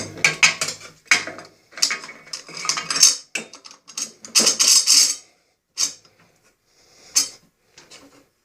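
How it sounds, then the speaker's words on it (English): Ratchet pawl mechanism on a Delta/Ammco metal shaper, clicking and clattering close by in quick irregular metallic bursts with short pauses, loud and alone without talk. "It's not going to work all that great without the ratchet pawl on there."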